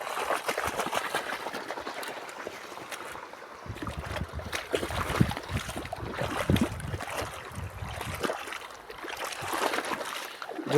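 Irrigation water pouring from a well into a farm field, a steady rushing and splashing flow with scraping and shuffling noises from someone working nearby, and no talking.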